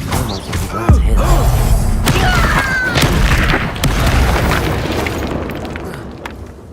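A Confringo spell explosion in the game Hogwarts Legacy comes as a loud, deep boom with a rumbling burst. Crackling debris and game effects follow and fade gradually over several seconds.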